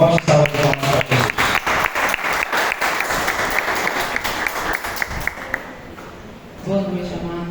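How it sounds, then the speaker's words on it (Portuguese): A church congregation claps loudly to welcome a woman preacher to the front, with the first claps in a quick unison rhythm that blurs into steady applause, fades out, and then gives way to a voice speaking. "Vamos receber a irmã Eva com forte salva de palmas para Jesus."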